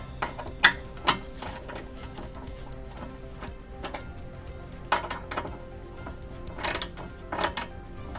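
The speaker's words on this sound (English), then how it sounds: "put a little bit of torque on it with our ratchet" A hand ratchet snugs a stud holding a firewall heat shield on an Evo X: scattered quick clicking bursts and metallic taps, close by, with pauses between short runs of turns.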